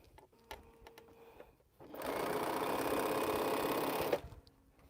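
A sewing machine stitches pinwheel quilt blocks in one continuous, steady whirring burst of about two seconds, close and fairly loud, with quiet handling sounds before and after.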